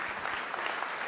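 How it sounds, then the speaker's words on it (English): An audience at a live personal finance show breaks into a steady round of applause, a dense, even patter of many hands clapping at a moderate distance. "Oh, I like the round of applause."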